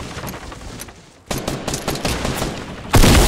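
Rapid game gunfire in Fortnite, a quieter stretch followed by a dense run of loud shots from about 1.3 s and a heavier blast near the end.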